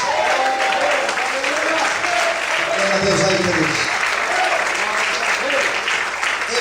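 A church congregation breaks into sustained, loud applause filling the room, with a pastor's voice calling out in Portuguese over the clapping.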